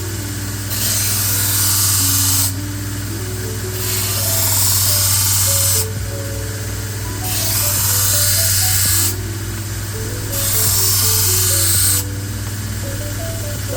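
Knife bevel being cut on a powered sharpener, a steady motor hum with repeated broadband grinding passes of about two seconds each, broken by short pauses, fairly loud and close, no talk.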